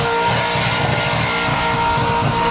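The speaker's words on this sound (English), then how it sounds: "letting this Ford absolutely scream its pipes" A Ford burnout car at an open class burnout final screams its engine through the pipes, a loud sustained high-revving roar with pulsing low throb, continuous and close for the whole stretch.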